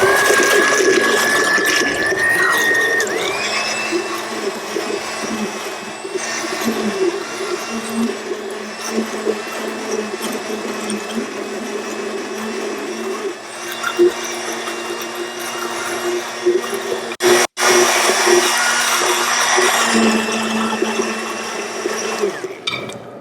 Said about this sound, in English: we're going to go ahead with our immersion blender and just whip this up a little